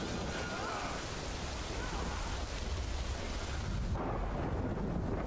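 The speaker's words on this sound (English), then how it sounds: "Is it the rain?" Steady rain pours down in the video game Death Stranding, a dense, constant hiss filling the scene throughout, loud and unbroken with no voices over it.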